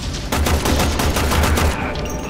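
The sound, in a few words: gunfire in the video game Warframe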